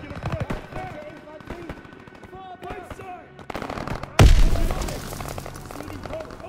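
Gunfire in the World War II shooter Call of Duty: WWII, with scattered shots under shouted voices, then a loud burst that rings on for a couple of seconds.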